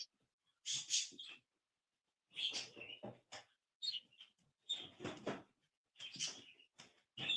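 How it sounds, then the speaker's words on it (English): Pet birds call loudly indoors in bursts of shrill, chirping squawks, close to the listener, separated by short silences with no talking. "I'm moving the birds to the front porch."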